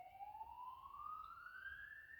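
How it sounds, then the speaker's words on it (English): A distant ambulance siren rises steadily in a single long wail, faint and far off, with no talking over it. "can you guys hear that emergency service vehicle?"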